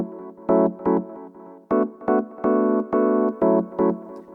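Chords from a Rhodes electric piano emulation (Lounge Lizard) in a house music context, played as short rhythmic stabs with a few longer held chords, clean and close with no other sounds.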